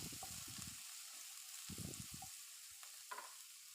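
Whole fennel seeds frying in hot oil for a traditional Kerala prawn dish, giving a steady close sizzle with soft crackles and bursts of stirring, with no voices.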